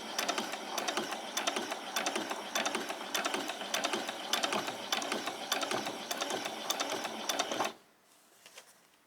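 A sewing machine stitches fabric for a summer top, a close, rapid, steady mechanical rattle of needle strokes that runs for several seconds, then stops abruptly, followed by a few faint handling sounds.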